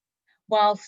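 A single short, clear meow from a house cat, close and fairly loud, with a bright harmonic tone lasting about half a second in an otherwise quiet indoor room.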